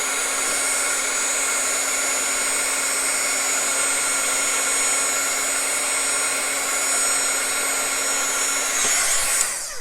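A heat tool dries distress oxide pigment ink on a stamped card before embossing, blowing a loud, steady hair-dryer-like whoosh with a faint hum, running unbroken and alone for about ten seconds.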